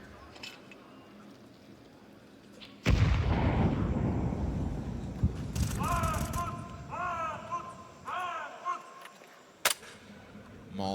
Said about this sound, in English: Frag grenade into the red room.